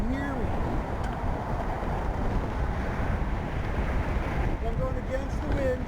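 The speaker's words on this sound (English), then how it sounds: "this is a serious headwind" A strong headwind blows against a cyclist riding an e-bike, producing a continuous loud, low rumbling wind buffeting on the microphone, with faint speech-like sounds underneath.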